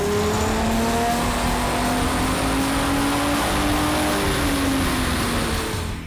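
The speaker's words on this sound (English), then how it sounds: "we're going to make a stock dyno run on the car so we see what our baseline horsepower and torque numbers are" A stock 2005 Ford Mustang V6 with automatic transmission revs hard on a dyno, a loud, steady engine roar with a slowly rising pitch held throughout.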